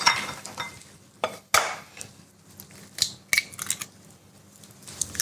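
Egg whites and then whole eggs added to a bowl while cooking a frittata, heard as a few sharp close clinks and taps with soft wet pours between them, with no talking.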